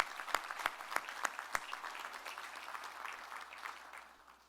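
Quiet applause from a presentation audience for the staff behind the scenes, several distinct sharp claps up front blending into soft scattered clapping that tapers off.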